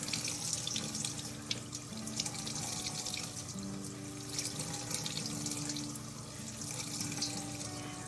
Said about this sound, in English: Make sure we have nice cold water and we wash it.